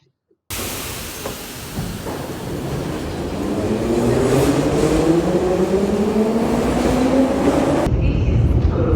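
A subway train rumbles loudly through a Kyiv metro station, its pitch rising steadily as it speeds up, with a steady roar and rattling underneath.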